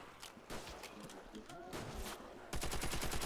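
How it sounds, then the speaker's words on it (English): Rapid bursts of gunfire from a player shooting zombies in World at War Nazi Zombies, with a denser volley of shots near the end, and some background game sounds. "I'm shooting these zombies."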